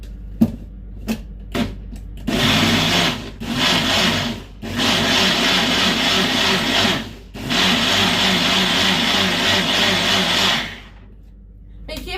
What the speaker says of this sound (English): I'm going to put a blender piece on top and blend.